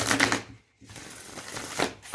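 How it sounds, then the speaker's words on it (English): Close riffling and slapping of a tarot deck being shuffled, in two quick bursts separated by a brief silence, with a final soft rustle. "I'm going to shuffle."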